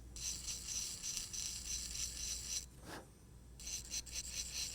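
Steady close rasping and rubbing as a tool smooths the milled surface of a green-state zirconia disk, continuous strokes with one short pause, fairly quiet and with no voices.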